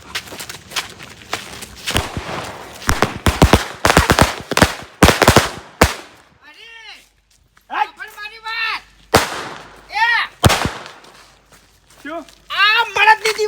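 Diwali firecrackers exploding in a series of sharp, loud bangs, rapid at first and then spaced out, with people shouting and talking excitedly between the blasts.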